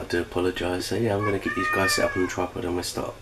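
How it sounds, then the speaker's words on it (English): A cat meows in the middle of the clip while a person keeps talking over it, the mewing rising briefly above the steady speech in a home kitchen. "so yeah, that's the cat."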